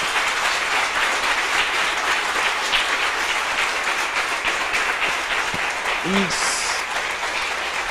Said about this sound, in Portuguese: Agora vamos aplaudir bem alto